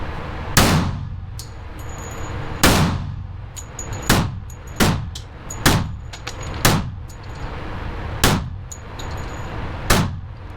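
Sharp .45 pistol shots crack at a shooting range, about eight spaced reports over ten seconds, each loud and close with a short ringing decay and a faint metallic clang of hits on a steel target.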